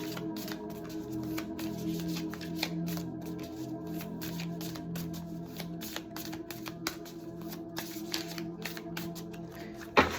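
A tarot deck is handled up close, with a steady patter of soft card flicks and taps running under a low background hum, followed by a sharper snap near the end as a card is pulled.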